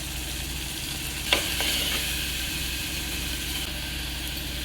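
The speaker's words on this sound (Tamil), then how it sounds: "இஞ்சி பூண்டு பேஸ்ட் போட்டுக்கலாங்க." Ginger garlic paste with tomato, green chilli and curry leaves frying in a pan for mutton curry, a steady close sizzle with a brief stir or scrape near the start.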